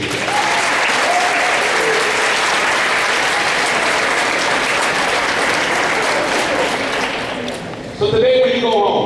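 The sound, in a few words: audience clapping hands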